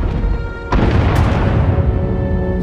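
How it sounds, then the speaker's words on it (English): A sudden heavy boom lands in a dense, roaring wall of rumbling blasts, loud and sustained like an ongoing bombardment, in Star Wars: The Old Republic. "Sounds like the bombing's getting closer."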